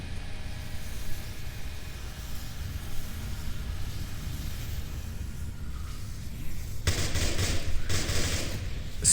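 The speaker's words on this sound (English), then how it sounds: "Switch is firing a lot." Gunfire in the VR shooter Onward, a steady low rumbling bed of shots and battle noise that grows louder with bright bursts near the end.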